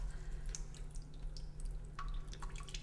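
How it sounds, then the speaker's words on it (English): Water from cooked apples for homemade applesauce drains off quietly into a sink, giving soft, scattered drips and light splashes over a low steady hum. "Drain the water off."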